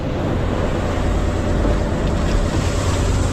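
Strong wind and heavy waves during Typhoon Enteng, a loud roaring wash of surf and gusts buffeting the microphone without pause.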